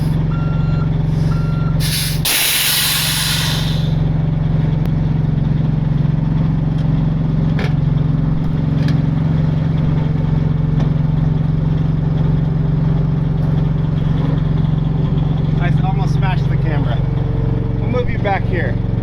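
A truck towing a fifth wheel trailer idles and rolls forward with a steady low engine rumble, a hiss of air brakes early on and repeated reversing beeps, with people talking over it.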